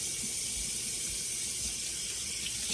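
Tap water runs steadily from a faucet into a measuring cup while making rice, a continuous soft hiss that stays even throughout, faint and alone.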